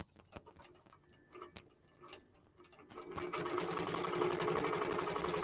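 A QBOT quilting robot drives a sewing machine, stitching out a quilt; after a few seconds of quiet clicks and ticks, the machine's steady, fast whirring hum starts up and runs on loudly to the end.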